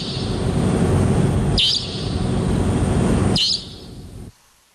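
Taiwan nightjars call in a city neighborhood at night, giving loud, shrill repeated notes in three sustained bursts separated by brief breaks, with the last one fading before silence.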